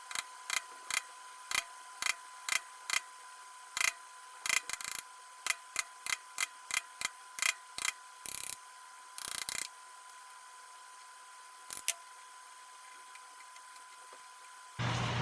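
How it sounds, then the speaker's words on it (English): A chisel notches the underside of a wooden zero-clearance table saw insert, giving sharp, close taps in quick irregular runs with short pauses and a longer gap near the end. "take my chisel and notch out a little bit of the bottom of the insert here"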